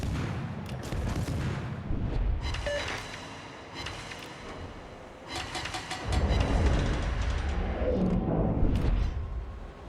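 Naval guns fire in the World of Warships game during a battleship engagement. Repeated booming salvos and rumbling blasts come in loud waves over a steady background engine drone, with no talking.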